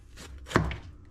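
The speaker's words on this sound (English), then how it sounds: "Let's get to chopping." A single knife chop through pulled pork on a board, a short soft thud, close and quiet.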